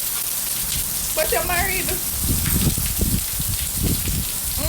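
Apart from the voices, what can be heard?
rain falling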